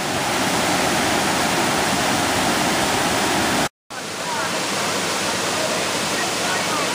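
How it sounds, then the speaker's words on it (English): Steady, loud broadband rush of a waterfall on Panther Creek in the North Georgia mountains, continuous and close, briefly cut to silence for a moment midway before the roar resumes. "a nice pleasant sound of rushing water in the North Georgia mountains"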